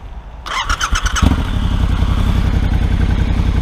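A starter whirs briefly, then a Triumph Scrambler XE motorcycle engine in neutral fires up and settles into a steady, pulsing idle nearby.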